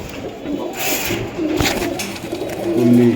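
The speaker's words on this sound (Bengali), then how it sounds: "একদম রানিং কবুতর এটা" Running pigeons coo in low, throaty repeated calls close by in a loft, with light rustling and background noise around them.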